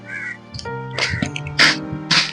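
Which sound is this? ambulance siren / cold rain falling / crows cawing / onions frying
crows cawing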